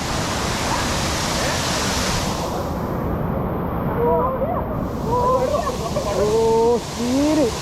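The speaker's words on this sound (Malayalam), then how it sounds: "നമ്മൾ വെള്ളച്ചാട്ടത്തിൻ്റെ അടുത്ത് എത്തിയിട്ടുണ്ട്" A waterfall in Trivandrum roars as a steady, dense rush of broadband noise up close. A short lull occurs partway through, and voices are heard talking over the roar in the latter half.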